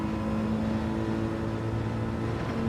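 Car engine in Gran Turismo 7 during online daily racing holds a steady, droning tone with a sustained mid-range hum and constant road noise, no revving swings.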